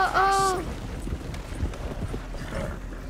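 Rapid clip-clop of galloping horse hooves in Red Dead Redemption 2, with a brief whinny-like tone at the start, layered under game sounds and some talking.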